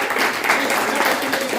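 An audience claps loudly for Devendra sir at a marketing-plan meeting, a dense, steady round of applause with a voice speaking over it.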